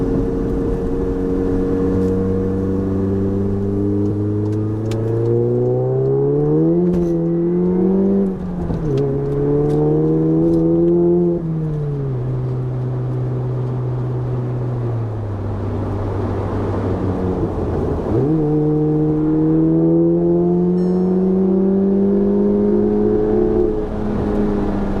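A VW Golf Mk7 GTI fitted with an IS38 turbo upgrade revs up through the gears, its engine note climbing, dropping at shifts, then rising again, loud and close from inside the car with no talking.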